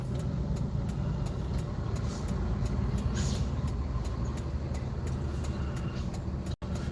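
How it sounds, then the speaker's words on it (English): On a Bronx street, a big truck rumbles past, a steady low roar of engine and road noise with no speech over it. "Look at this big truck coming."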